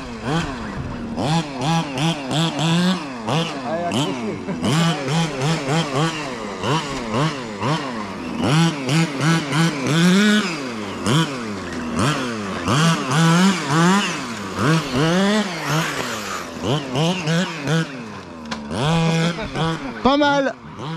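An FG Marder 1/6 scale nitro RC buggy with a two-stroke engine, revving and winding up and down in repeated passes across a 2WD drift run, a buzzing, rising and falling whine that stays loud and fairly close.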